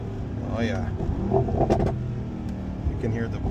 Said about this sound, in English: You can hear the burbles and the exhaust.